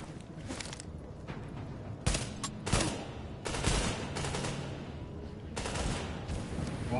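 Gunfire in The Division, several distinct shots and short bursts cracking out at irregular intervals over a low ambient rumble, moderately distant and fairly quiet.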